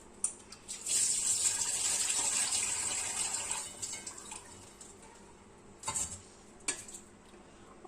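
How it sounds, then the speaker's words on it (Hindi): Roughly a glass of water poured into a pot of rogni mutton, a steady splashing rush lasting a few seconds, then trailing off into faint drips and a couple of short clinks of cookware. "तकरीबन 1 गिलास के करीब मैं इसके अंदर पानी शामिल कर रही हूँ"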